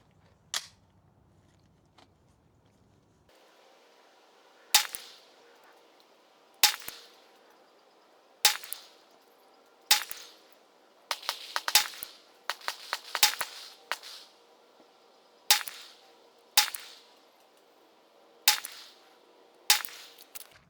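9mm pistol shots fired with Blazer 124 grain CCI ammunition, about a dozen sharp cracks at an unhurried pace with a quick cluster in the middle, each standing alone over quiet outdoor background.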